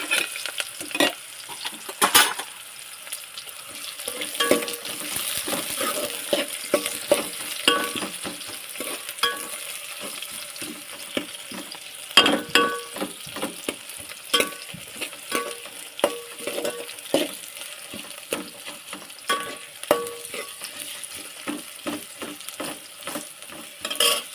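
Curry leaves and onion fry in a hot pan while being stirred, a steady sizzle broken by frequent scraping strokes of a spoon against the metal, close and fairly loud throughout.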